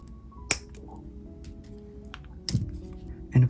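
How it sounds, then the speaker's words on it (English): Flush cutters snip the excess wire from a handmade layered slip-knot necklace, giving a sharp, close click, followed by a couple of softer handling clicks in a quiet room. "And now I need to cut off the excess,"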